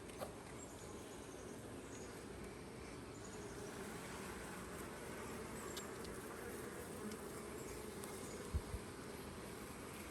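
Dense, steady buzzing of many honey bees up close at an open hive during an inspection after a swarm, a continuous swarming drone with no speech.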